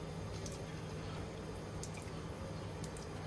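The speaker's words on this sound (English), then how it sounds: "I'm going to pour the rest of this out into another pan" Melted ghee is poured from one pan into another, making a soft, steady liquid trickle with faint drips that runs continuously at low volume.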